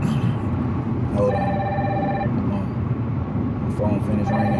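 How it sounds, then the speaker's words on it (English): A phone rings with a repeated electronic tone in two short bursts, heard under someone talking, with low traffic rumble in the background. "My phone finished ringing."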